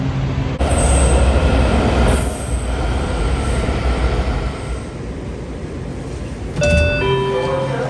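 A Washington Metro Orange Line train bound for New Carrollton arrives at a station with a loud, sustained roar of wheels and track, ending in high metallic brake squeals as it slows.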